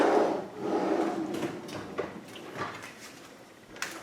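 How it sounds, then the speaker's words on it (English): Kitchen drawers are rummaged through, with a steady clatter of utensils shifting and sliding, scattered knocks and a sharper bump near the end. "I switch things around in the drawers, now I can't find them."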